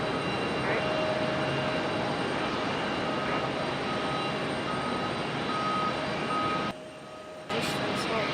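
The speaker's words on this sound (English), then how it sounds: "Another JetBlue touching down" A JetBlue airliner touching down at Raleigh-Durham International Airport, a steady loud roar of engine noise that holds for several seconds before briefly dropping away and returning.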